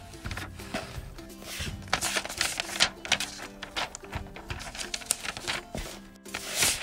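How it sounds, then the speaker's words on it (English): Sheet of paper being folded into a paper airplane, giving close, crisp crinkles, creases and dry rustles in irregular bursts throughout, with no talk. "you're going to fold it like this"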